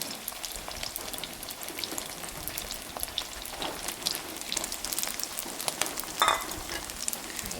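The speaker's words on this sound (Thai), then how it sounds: "จุ่มไข่เราเอาลงไปทอดอีกรอบหนึ่ง" Egg-dipped sticky rice deep frying in oil, giving a steady crackling sizzle with dense bubbling pops throughout, close and continuous.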